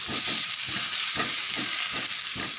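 Rava wheat dosa with carrot, onion and green chilli fries on a hot pan, a steady close sizzle with soft rhythmic scraping pulses and no voices.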